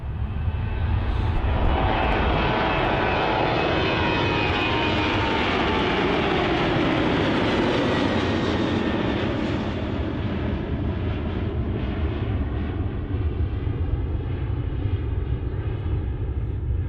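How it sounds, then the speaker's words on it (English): A Ryanair airliner takes off at Helsinki Airport, its jet engines roaring loud and close, then the roar slowly changes pitch and fades a little as the aircraft climbs away. "here we're going to get this Ryanair going"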